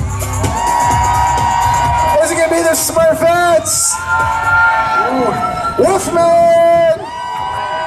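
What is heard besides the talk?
crowd cheering and applauding costume contest contestants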